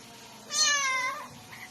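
A talking pet bird mimics a cat with one drawn-out, clear meow lasting under a second, close by and alone against a quiet background.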